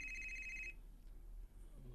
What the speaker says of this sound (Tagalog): Yan ang cellphone ang nag-ring.